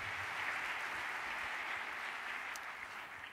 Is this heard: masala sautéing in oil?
no